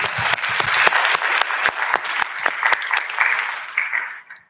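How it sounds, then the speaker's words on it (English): Audience applause at a veterinary students' congress, a dense room full of clapping with sharp individual claps standing out, fading toward the end. "so applause to you"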